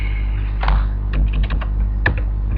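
Someone types a web address on a computer keyboard in a quick, uneven run of close, crisp key clicks with brief pauses between bursts.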